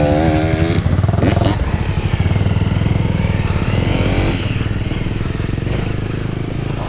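A Suzuki LTZ quad runs along a soft clay trail, its engine a close, loud, rapid buzzing drone that rises and falls with throttle blips, mixed with rattling and scraping.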